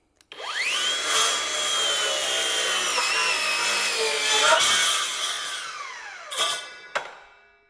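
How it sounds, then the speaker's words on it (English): A Skil PWRCore 20 6-1/2 inch cordless circular saw makes a full 45-degree bevel cut through 2x lumber: the motor spins up to a steady high whine under load, then winds down, followed by a couple of sharp clicks. "the Skil had no issue getting through the 2x material on a full 45 degrees"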